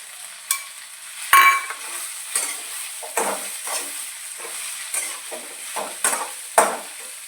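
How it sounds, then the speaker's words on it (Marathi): Peanuts being sautéed in a home pan, with a steady sizzle broken by repeated scraping strokes of a spoon or spatula roughly every half second, close and moderately loud, with no voices. "छान असं परतून घेऊ।"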